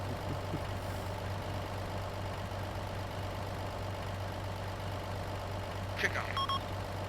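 A truck engine idles in the video game ARMA 2 with a steady low rumble throughout, a faint radio-like chirp near the end, and no talk.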